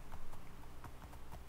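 Donkey hooves clip-clopping in the Minecraft video game as the animal struggles through water, a steady run of light, evenly spaced hoof taps at moderate level with no talking.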